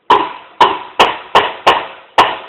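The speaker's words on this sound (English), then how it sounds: "what this is, we call it a rim shot." Six sharp, cracking drum rim shots land at an even pace, each one loud and close and ringing briefly before the next.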